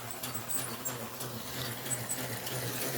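MOTA ready-to-run toy train engine running, a steady small-motor whir with fine rapid clicking and rattle, close and continuous with no voices.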